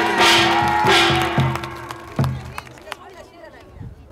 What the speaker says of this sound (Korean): 김상철 위원장님께 다시 한번 큰 박수